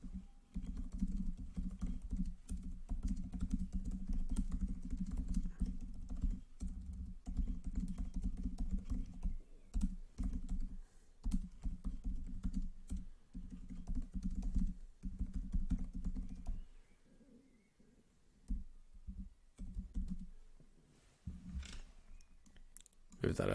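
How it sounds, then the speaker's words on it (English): Steady computer keyboard typing as a prompt is entered into an AI chatbot, continuous clicking keystrokes for most of the stretch with a low background hum, thinning out near the end. "I'm going to write the right prompt into ChatGPT"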